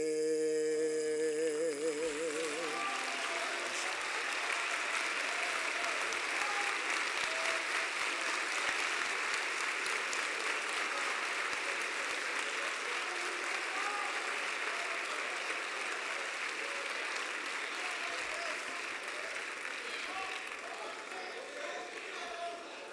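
After a brief voice, a large audience at a forum breaks into long, dense applause that holds steady for over twenty seconds before easing off slightly.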